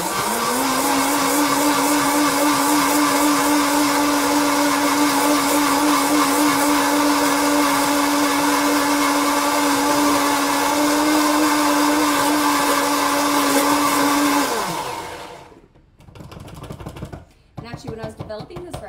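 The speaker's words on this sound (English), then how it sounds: "move the puree as it blends" A blender purees a fairly thin mixture, its motor whining loudly and steadily for about fifteen seconds before spinning down, followed by quieter clatter and handling noises.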